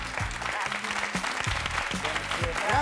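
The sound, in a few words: audience applause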